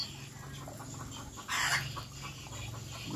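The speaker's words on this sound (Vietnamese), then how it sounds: "Các bạn có thể nghe tiếng con gà rừng đặc nó kêu." A hen of the Vietnamese crested jungle fowl calls after laying an egg in an aviary nest box, sounding as repeated clucking cackles with a louder burst midway, amid a noisy outdoor background.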